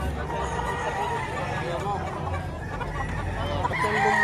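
Roosters and hens crow and cluck amid a busy poultry auction market in Padre Garcia, with crowd babble and a seller's voice running throughout under the birds.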